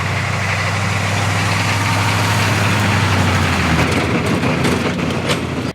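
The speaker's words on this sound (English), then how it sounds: "This thing makes a ton of noise outside of the truck and inside the truck." An uninsulated M1008 CUCV military truck engine runs steadily with a loud, droning diesel-like rumble heard from close by, while some faint rattling builds toward the end.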